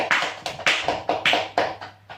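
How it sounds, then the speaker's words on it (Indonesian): Applause from a classroom of students during an Islamic jurisprudence lesson on funeral prayer: several uneven bursts of claps, each fading quickly, with no talking. "Tepuk tangan."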